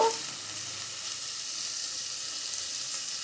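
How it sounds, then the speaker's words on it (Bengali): Paneer pieces shallow-frying lightly in a pan, giving a steady, even close sizzle throughout, with a brief clatter at the very start and no voices. "পনিরটা এইভাবে ভেজে নেবো একটু আমি এইভাবে একটু পনিরটা আবার ভেজে নেব"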